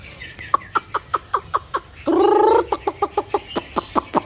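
A pet songbird raised by a keeper calls in a steady run of sharp, bright chirps, with a longer buzzing, harmonic call in the middle, close and clear in a quiet setting.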